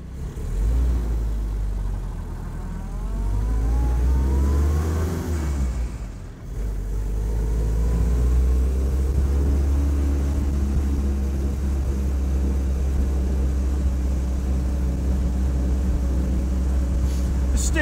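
A 77-year-old Willys jeep engine drives steadily at close range, a loud low rumble with rising and falling tones early on and a brief dip near the middle, where the carburettor hesitates.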